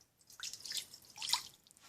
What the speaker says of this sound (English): So what I'm going to do is I'm going to add 1 cup of water.